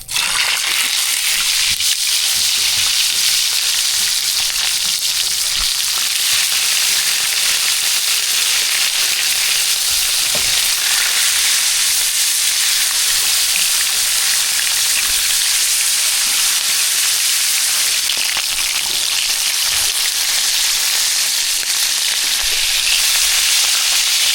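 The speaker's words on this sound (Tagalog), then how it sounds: "umpisa na tayo prito" Steady, loud sizzling and crackling of fish frying in hot oil, continuous throughout with occasional sharper pops and no talking.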